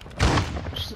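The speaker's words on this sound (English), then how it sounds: "Single shot shotgun." A single-shot shotgun fires once in the Call of Duty DMZ video game, a short loud boom with a quick decaying tail, heard alone.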